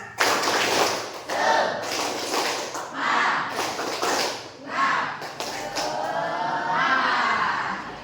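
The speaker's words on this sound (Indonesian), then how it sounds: "Oke, tepuk semangat." A school class performs a rhythmic spirit clap, with sharp, loud bursts of group clapping in short patterned sets separated by brief pauses. Children's voices chant and call along between the bursts.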